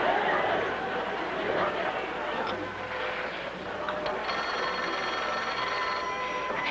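A 1950s household telephone bell ringing in a sitcom scene, repeated trilling rings sounding under room chatter and a faint laugh, moderately distant and steady across the clip.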